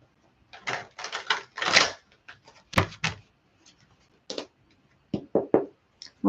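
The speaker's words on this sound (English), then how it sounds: "I'm going to shuffle again" A deck of cards is shuffled and handled close up during a card reading, with a few quick riffling bursts and scattered taps and snaps in between.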